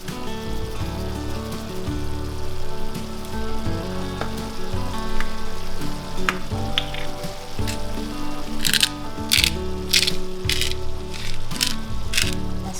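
Salt and pepper ground over food in a pot, heard as a quick series of crisp grinding bursts near the end, over a continuous cooking sizzle and background music.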